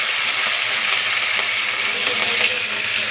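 Cumin, green chili and curry leaves fry in hot oil with a dense, steady sizzle and crackle that stays loud and close throughout, no voices.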